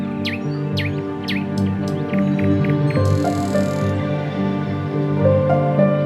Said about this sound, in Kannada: ಇಲ್ಲಿ ಬಂದ್ಗಳೇ ನಮಗೆ ಹಕ್ಕಿಗಳ ಸೌಂಡ್ ಕೇಳಿಸ್ತದೆ ನೋಡ್ರಿ